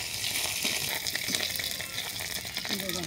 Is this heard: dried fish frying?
yes